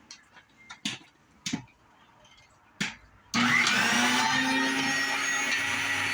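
An electric meat grinder working through top round beef. A few soft clicks and knocks come first, then the motor kicks on abruptly into a loud, steady whirring grind that runs to the end.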